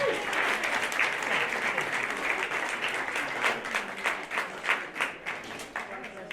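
Warm applause from attendees at a community health forum in Winthrop, sustained clapping that rises then thins into separate claps toward the end, moderately loud with a faint murmur of voices underneath.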